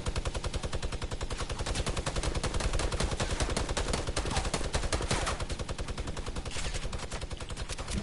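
Sustained rapid automatic gunfire in the Fortnite video game, a continuous, evenly spaced stream of loud shots lasting several seconds with barely any pause.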